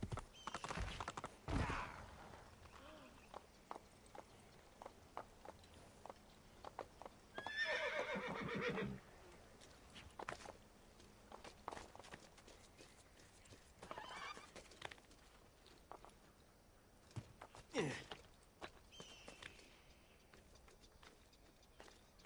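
A horse in Assassin's Creed II whinnies and neighs in several loud bursts, with clip-clopping hooves and pattering steps between them in a busy game scene.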